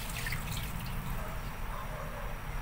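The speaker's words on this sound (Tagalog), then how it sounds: "mag-add pala ako ng tubig guys" Water pours into a cooking pot of pansit noodles with vegetables, a steady close trickle and splash running throughout without pause.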